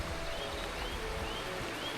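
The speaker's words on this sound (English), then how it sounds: "There's your river." A river flowing beside a walking route out of Hardraw toward Hawes gives a steady, close wash of rushing water that fills the whole stretch without pause, with no voices over it.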